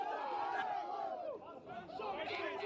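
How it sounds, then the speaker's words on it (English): A rugby crowd at a reserve grade match shouts and jeers after a big hit, a broad distant roar of voices that swells, dips briefly, then rises again. "And the crowd letting him know about it too"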